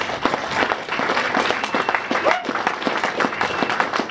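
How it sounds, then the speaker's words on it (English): Audience at a book launch breaking into applause, dense sustained clapping from a room of people, fairly close, lasting several seconds. "So a round of applause for them."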